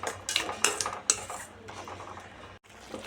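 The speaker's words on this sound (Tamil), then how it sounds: "தண்ணி சேர்த்திட்டு எல்லாம் மிக்ஸ் பண்ணி விட்டு 5 நிமிஷம் கொதிக்க விடலாம்." A spoon scrapes and clinks against a metal pot in a few quick strokes, then softer stirring of mango chutney continues close by.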